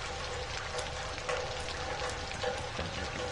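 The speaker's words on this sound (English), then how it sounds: "Oh, it's still raining, though." Steady rain outside an insane asylum in the horror game Outlast, a continuous broadband hiss of falling water with no talking.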